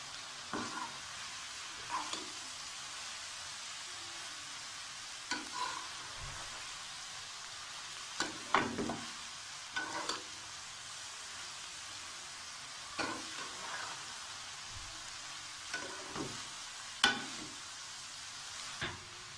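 Steady hissing sizzle of vegetables, garlic and green chillies stir-frying in a hot pan for fried rice, with periodic scraping clicks as the pieces are stirred and tossed. No one talks.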